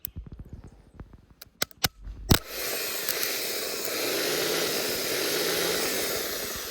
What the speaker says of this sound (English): We're gonna go ahead and hit the starter with 12 volts, see if we can get our spin.